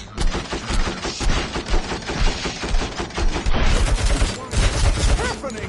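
Enemy UED units firing at the player in RoboCop: Rogue City on PS5, dense rapid automatic gunfire bursts overlapping with booming impacts, loud and continuous with a short lull midway.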